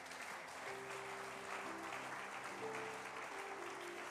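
Church congregation applauding, steady dense clapping throughout with a faint sustained organ or keyboard tone beneath.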